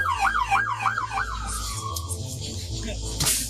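A wailing emergency siren, like a police car or ambulance arriving at a chaotic scene, rises and falls rapidly and nearby before fading into a steady tone over background noise.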